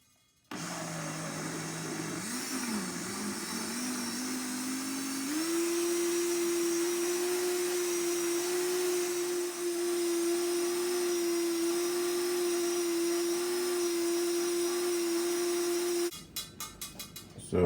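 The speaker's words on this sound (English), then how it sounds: "Then I'm gonna blend. This is gonna be noisy, you know." A blender runs for a long stretch on green plantain porridge with oats and cinnamon, its motor rising in pitch as it spins up and then holding a loud, steady whine before cutting off with a few rattles.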